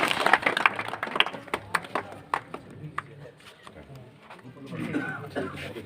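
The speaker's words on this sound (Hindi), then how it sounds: "जोरदार तालियां" A village crowd claps at a square during a BJP Jan Aakrosh Yatra rally in Dugrana, with scattered, uneven claps that swell and fade amid voices and general murmur.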